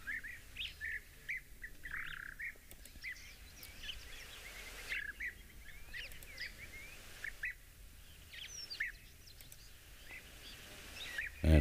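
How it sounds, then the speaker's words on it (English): Bright, rolling European bee-eater calls repeat in short bursts against a quiet outdoor safari background at sunset, trills popping up every second or two at moderate distance. "That'd be European bee eaters."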